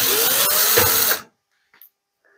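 A cordless screwdriver whirs loudly for about a second, backing out screws from the rear cover of a washing machine, then stops, followed by faint clicks and handling.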